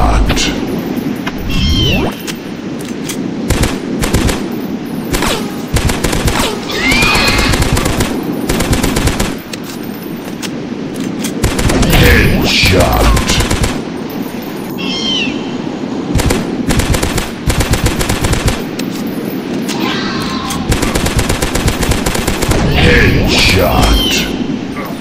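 Steady rapid gunfire in a dinosaur hunting video game, with bursts of shots, occasional booms and a voice speaking over the action.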